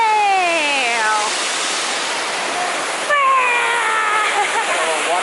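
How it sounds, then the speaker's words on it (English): A waterfall along a mossy forest stream in the Columbia Gorge rushes as a steady loud roar, with a voice talking over it at the start and again near the end. "Water is falling. Right there!"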